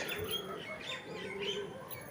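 Pigeons in a breeder's loft give faint coos and soft chirps, a few short, quiet calls at close to middle distance.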